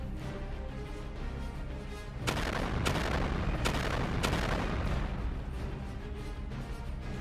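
A missile strikes the bow of a ship, setting off a loud blast: a sustained roar of rumbling detonation with several sharp cracks close together, then a long churning boom that fades slowly.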